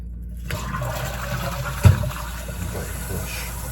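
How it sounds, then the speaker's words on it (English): A Roca D2D flush valve in a toilet cistern gives a short flush: water rushes and swirls at close range after a faint click, then settles to a quieter trickle. "So that's the short flush"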